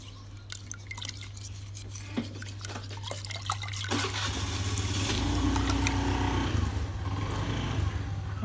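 Plain tap water splashes over eggs as they are rinsed by hand: scattered drips and light glassy clinks at first, then a steady, fairly close rush of running water takes over for the remainder, with no talking.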